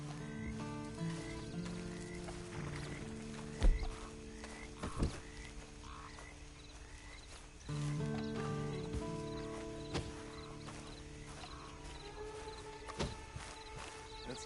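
Horse hooves clip-clop at a quiet, uneven pace in Red Dead Online, mixed with faint ambient game sounds and occasional thuds.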